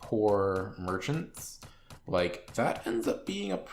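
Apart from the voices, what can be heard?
No everyday noises stand out.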